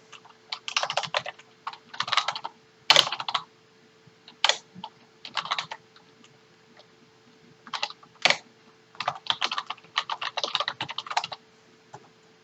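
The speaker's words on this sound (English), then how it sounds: "we'll go ahead and type in the domain name here." A domain name typed on a computer keyboard, bursts of rapid close key clicks separated by pauses, with a few sharper single taps and a faint steady hum behind, and no talking.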